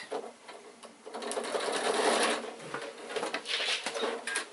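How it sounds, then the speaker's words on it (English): A sewing machine stitches across a picnic bag handle, a close, steady rapid rattle that swells and eases over a few seconds. "Sew across the other end"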